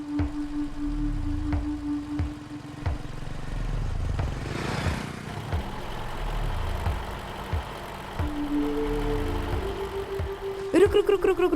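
A car engine idles in a low, steady rumble at moderate distance; the engine has a slight fault, and a sharp clatter breaks in near the end.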